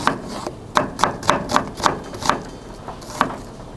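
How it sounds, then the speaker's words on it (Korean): A knife chopping an onion on a cutting board, a steady series of crisp, close taps spaced a fraction of a second apart, slowing slightly toward the end. "살살 썰어 볼게요"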